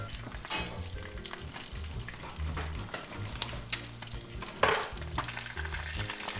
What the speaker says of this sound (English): Rosa lets them fry so the edges are crisp while the yolk remains runny.